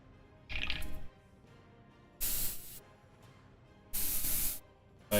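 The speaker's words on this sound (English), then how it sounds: "I'm gonna have my airbrush up high" Airbrush spraying paint onto a miniature Necron Skorpekh Lord, three separate hissing bursts about a second or so each, close and steady, with quiet pauses between them.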